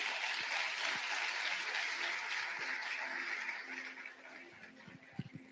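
A church congregation applauds for Jesus, a steady broad wash of clapping that thins out toward the end, with a few louder individual claps near the close.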